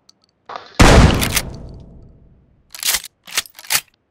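A loud, booming gunshot with a long decaying echo in the video game PUBG Mobile, followed by a few sharper, quicker shots; no talking.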